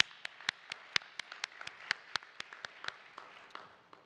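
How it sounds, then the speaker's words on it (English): Audience applause at a transit advertising awards ceremony: a short burst of scattered hand claps, moderately loud and fairly close, with sharp individual claps standing out over a soft background of crowd noise. "Another round of applause for Hart."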